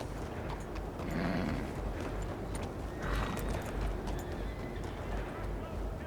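Horse hooves clip-clopping in the video game Red Dead Redemption 2, a steady rhythmic clatter mixed with a neigh, ambient town noise and voices in a busy street scene.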